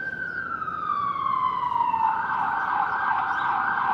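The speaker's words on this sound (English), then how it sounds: "so we got some sirens going." An emergency vehicle siren wails on a Baltimore city street. The loud, steady tone slides downward, then holds at a lower pitch, over constant traffic hum.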